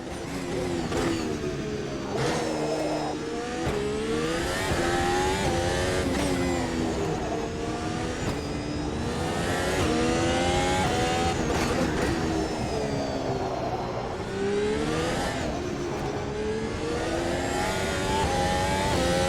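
A race car engine in the Automobilista 2 sim racing game revs hard and continuously, its pitch climbing and dropping with repeated gear changes and throttle lifts. The sound is loud and close throughout, with no talking.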